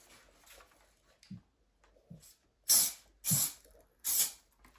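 Three loud hissing bursts of an Amaco Sprayz sprayer fitted with a stock spray-paint can tip, each about half a second long and evenly spaced, preceded by a few faint rattles and clicks.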